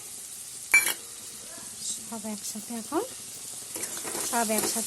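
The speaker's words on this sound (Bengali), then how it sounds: "এখন এটাকে কড়াইতে নাড়বো" Eggplant bharta with salt, turmeric and sugar stirred in a kadai: quiet sizzling runs under a sharp scrape or clatter near the start and soft stirring scrapes, while a voice speaks across the middle.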